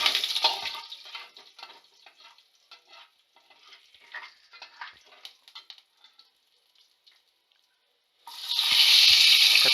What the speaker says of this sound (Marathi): कढीपत्ता टाकून घेऊ. त्यामध्ये आम्ही 1 मिरची टाकलेली आहे.